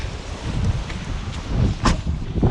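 Gusty wind blasts across the microphone at a flooded boat launch, a loud rumbling roar that swells and dips in strong bursts with no voices.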